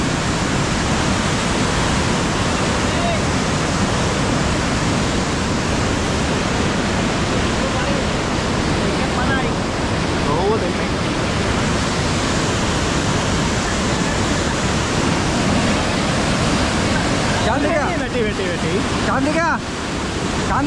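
Water pours over an anicut weir in a constant, loud, broadband rush, with faint voices near the end.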